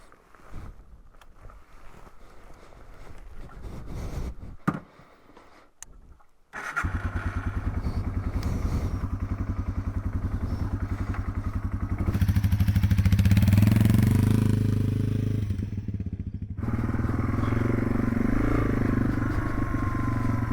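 A Yamaha TW200 motorcycle engine starts up and settles into a steady, loud idle close by, then revs louder for a few seconds before dropping back to a rumbling idle, with no talking.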